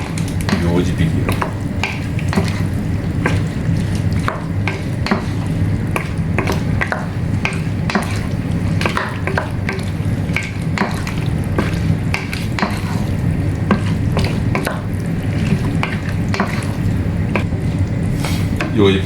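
Potatoes and mixed vegetables being stirred together in a pan for vegetable masala pulao, with steady scraping and clinking of a utensil over a soft sizzle, close and continuous, while someone talks over it throughout.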